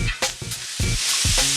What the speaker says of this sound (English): While your squash is frying in this oil